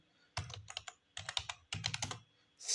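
Java code is typed on a computer keyboard in three short bursts of close, crisp key clicks, with brief pauses between them.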